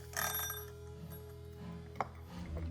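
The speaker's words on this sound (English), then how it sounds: "It's a timer." A kitchen timer rings with a bright, metallic bell-like burst near the start, then fades into a quieter, steady tone with a faint click partway through.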